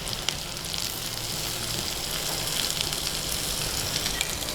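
Onions fry in a pan for cooking jackfruit seeds, producing a soft, even sizzle with light crackles that stays steady and fairly faint, with no one talking.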